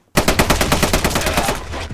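Dense automatic gunfire from the action film Sisu, a loud sustained burst of rapid shots with no pauses, filling the whole stretch after a brief silent start.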